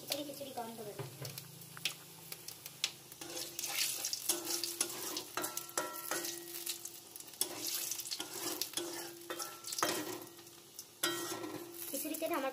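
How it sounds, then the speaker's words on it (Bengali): Dried red chillies and panch phoron whole spices crackle and sizzle in hot oil for khichuri, with steady frying hiss and stirring scrapes running throughout, close and fairly quiet. "শুকনো লঙ্কা ফোড়ন দিচ্ছি, পাঁচফোড়ন।"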